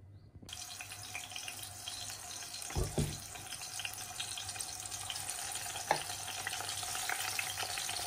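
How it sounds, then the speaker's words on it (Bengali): Brinjal and potato fry in a pan with a steady, soft sizzle that runs throughout, joined by a brief clatter near the start and a faint tap later, with no talking. "এখন ভাজা করতেছি।"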